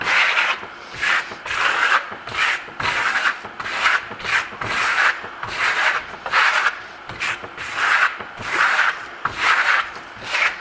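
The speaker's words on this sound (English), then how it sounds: "I am putting some pressure behind it because I got to get it into that plaster." A trowel is pressed firmly across a wall, working two-tone Venetian marmorino plaster in a steady run of rasping strokes, about two each second, close and fairly loud with no talking.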